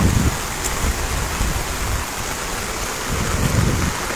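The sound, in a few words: heavy rain falling near Salal Dam on the Chenab River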